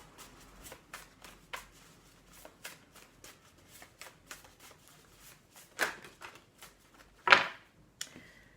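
Oracle cards are shuffled and cut by hand, making rapid soft riffling flicks and slaps close up, a brisk uneven rhythm ending in a couple of sharper snaps as the deck is squared.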